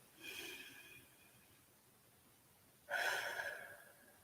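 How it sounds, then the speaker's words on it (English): A person breathes slowly and audibly, with a soft inhale, a long pause, then a louder, deeper exhale close by, with no talking. "We're just going to take just a moment to breathe in and out."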